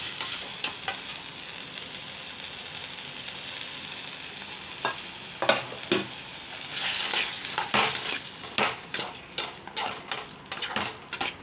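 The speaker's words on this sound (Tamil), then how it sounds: "இந்த அரைச்ச விழுதை வந்து கொஞ்சம் வதக்கி கொடுப்போம்" Ground masala paste sautéed in hot oil in a pan, a steady sizzle with a spoon scraping and stirring, the strokes quickening into a run of distinct scrapes toward the end.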